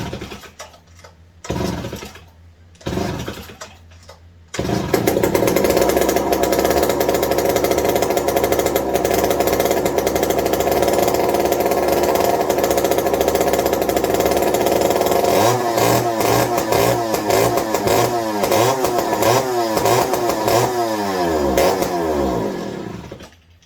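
A small two-stroke McCulloch 55 gear-drive chainsaw engine sputters in a few short bursts, then roars continuously and loudly, its pitch swinging up and down as it revs repeatedly.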